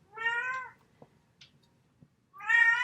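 A house cat meows twice in a kitchen during baking, two clear drawn-out calls separated by a short pause with faint soft knocks between them, close and fairly loud.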